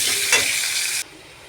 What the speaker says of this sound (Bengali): এবার আমি কড়াতে তেল নিয়ে নিয়েছি, পেঁয়াজটা দিয়ে দেবো এর মধ্যে। পেঁয়াজটা দিয়ে আমি নেড়ে নেব।